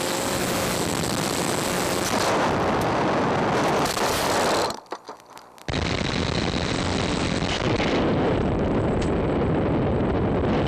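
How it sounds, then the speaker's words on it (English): A model aircraft crashes: a loud, dense roar of rushing noise fills the clip, broken by an abrupt near-silent dropout of about a second midway before the harsh noise resumes just as strongly. "Dang, that was a bad crash."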